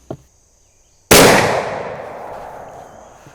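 A single loud muzzleloader rifle shot at an outdoor target range, sharp and close, with a long booming decay that rolls off over several seconds.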